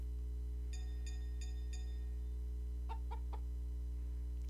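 Chicken in Story of Seasons: Pioneers of Olive Town giving two quick runs of short clucks, first four bright even notes and then three lower ones, over a constant low background hum.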